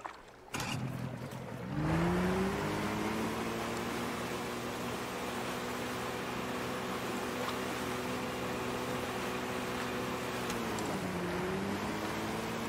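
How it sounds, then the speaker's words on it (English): Steady boat outboard motor drone from the fishing video game Call of the Wild: The Angler, running continuously at a constant pitch after a brief startup, with a small dip in tone near the end and no talking. "I don't wanna be driving this boat down the river at night."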